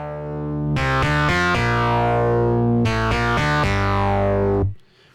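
A Serum synth lead, gritty with distortion and widened by a dimension expander, plays a short riff of rapid stabbed notes and sustained tones before cutting off.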